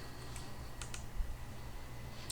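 Quiet typing on a computer keyboard, a few soft scattered clicks and taps over a low steady room hum, with no voices.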